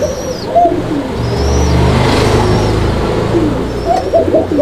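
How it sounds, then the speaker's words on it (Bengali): Male and female pigeons, a pair offered for sale, coo repeatedly in soft throaty bursts with chirps from other birds and a busy aviary hum behind, no talk. "আর এই পেয়ারটা নর মাদি কিন্তু দুইটাই ডাকবে"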